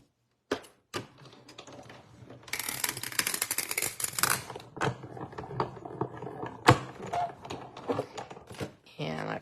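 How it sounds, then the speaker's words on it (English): Die-cutting machine blades crunch through felt in a short burst of close crackly cutting, preceded and followed by scattered clicks and handling noises, with a person talking. "That is the blades of the die going through the felt."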